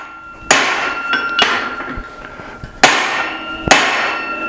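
Hammer blows driving a drift into a forged 8 oz hammer head, four loud ringing metallic strikes spaced unevenly, each with a bright decaying ring, close up.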